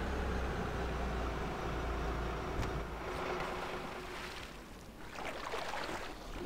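A boat motoring across water in Just Cause 2, a continuous low engine drone with rushing, splashing wash over it, steady and fairly close, with no voices.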